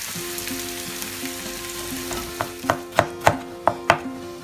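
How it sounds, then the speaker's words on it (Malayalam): Chopped onions sautéing in coconut oil for a biryani, a soft continuous sizzle joined near the end by five or six loud, close clacks of a spoon against the pan, no voices. "എണ്ണൂറ് ഗ്രാം ഉള്ളി ചെറിയ കഷ്ണങ്ങളാക്കി വെളിച്ചെണ്ണയിൽ വഴറ്റുക"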